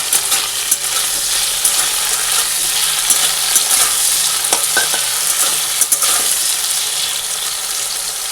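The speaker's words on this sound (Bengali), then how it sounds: "ওনার জন্য আবার সিম ভাজা বসিয়ে দিয়েছি" Loud, close sizzle of flat beans frying in hot oil with turmeric, with frequent stirring clinks and scrapes throughout.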